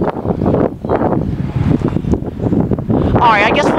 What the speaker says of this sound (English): As you can see, it is pretty windy today.